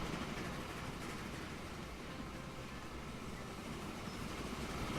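Freight train in Transport Fever rumbles steadily, a continuous broadband roll of wheels and engine at moderate distance, with no talk over it.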